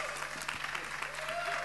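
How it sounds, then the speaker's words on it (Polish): An audience at the EXPODENT 2017 awards ceremony in Toruń gives warm applause, a steady patter of many clapping hands with a voice faintly audible beneath it. "Gorące brawa, drodzy Państwo."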